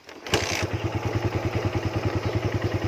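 A Suzuki Raider 150 motorcycle engine cranks with a sharp burst, then settles into a steady, rhythmic idle putter, close and fairly loud.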